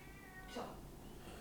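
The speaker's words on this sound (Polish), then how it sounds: "coś tam Pepper miałczy" A house cat named Pepper lets out a single short meow midway, quiet and somewhat distant against a soft room hum.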